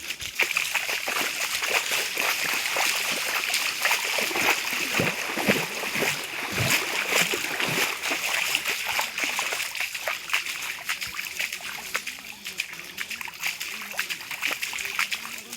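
Water rushes and splashes steadily in a continuous broad hiss, a stream on a trail to Rupshi waterfall, with occasional voices faintly under the flow.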